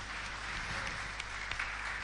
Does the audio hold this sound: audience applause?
yes